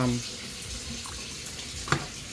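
Water runs steadily into a cooking pot of raw chicken for Puerto Rican rice and chicken in sauce, a soft continuous pour with a brief splash near the end.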